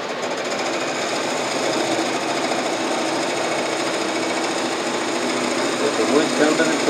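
Spindle gouge cutting a cherry burl hollow form spinning on a wood lathe, a steady continuous rasping hiss with motor whine, close and fairly loud throughout.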